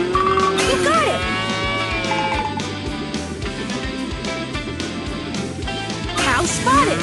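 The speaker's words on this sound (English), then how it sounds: "Cow spotted." A cartoon cow moos in the PAW Patrol Rescue World video game, the lowing heard over a busy, steady bed of game music and effects.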